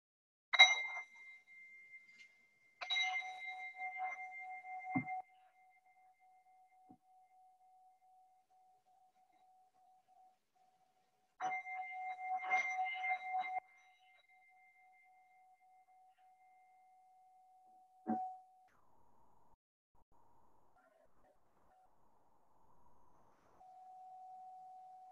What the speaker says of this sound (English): when you heard this bell of mindfulness, when you felt the vibrations in your skull.